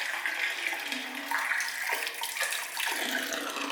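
Water running at a slow, steady rate from an open hydrant outdoors during a hot, dry spell, a continuous splashing rush with small surges, close and alone with no talk.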